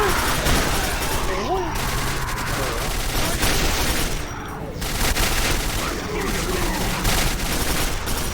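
Dense, continuous gunfire from the Quake 4 video game, steady and loud throughout with bursts of shots layered over game effects, while someone talks over it.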